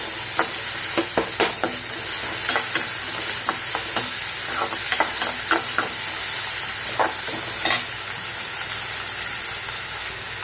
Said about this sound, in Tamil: அதையும் போட்டு நல்லா வதக்கி விடுங்க.